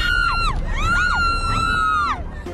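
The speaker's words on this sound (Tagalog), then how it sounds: "Ang masayang hiyawan sa peryahang ito sa Naik," A rider on an octopus ride at a fairground in Naic, Cavite lets out a loud, high, sustained scream that rises and falls in pitch several times over a couple of seconds.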